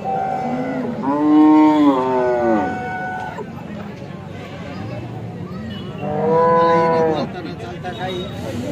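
A Jersey cow moos twice, long drawn-out calls with a pause between, close by over a low background murmur at a cattle market in Alephata.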